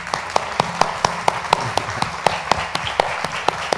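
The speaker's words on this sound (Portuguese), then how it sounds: "ele merece, de pé, uma salva de palmas" A seated audience at a dance festival performance claps steadily in applause, a dense continuous patter with sharper individual claps standing out, heard alone without talk.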